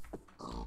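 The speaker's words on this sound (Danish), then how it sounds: "Ja, to grise." Pigs in a video game give a quick, faint pair of grunts, soft and close against a quiet background.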